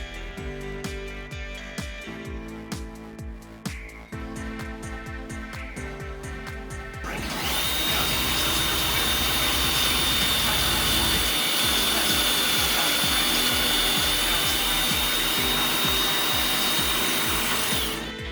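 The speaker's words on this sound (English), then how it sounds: "He is using a pocket hole jig for this." Power drill boring pocket holes into wooden boards through a pocket hole jig for a floating bedroom shelf, with softer tool runs and rubbing first, then a loud steady drill whine held close up for about eleven seconds.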